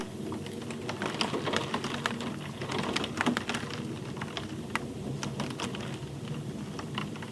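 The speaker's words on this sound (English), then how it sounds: "quiet except for the rain, which drums its soothing rhythm on the window" Steady rain patters against glass, with scattered sharper drops tapping over a soft continuous wash.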